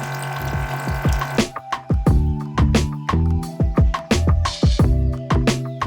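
Water runs into a bucket being filled to about 7.5 litres for a hydroponic grow system, with a steady rush at first, then a series of close, rhythmic sloshing and dripping pulses as the level rises.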